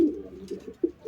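Pigeons coo softly and close by, a few low, throaty calls in quick succession.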